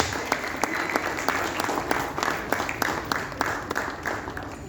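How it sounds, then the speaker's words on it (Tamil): An audience at a film press meet applauds as a movie producer is welcomed onto the stage, giving steady, close clapping with sharp individual claps standing out throughout. "ஒரு நல்ல கைத்தட்டலோடு let's welcome him onto the stage."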